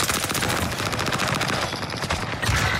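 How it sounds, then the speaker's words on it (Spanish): Rapid, dense gunfire from the Call of Duty Warzone video game, loud and continuous bursts of automatic shots filling the whole moment with no pause. "¡Dos tiros!"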